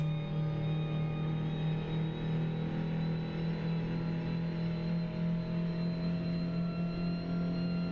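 An Austin Mini Cooper S racing car engine in a video game, at Thruxton circuit, drones at a steady, unchanging pitch throughout, loud and continuous.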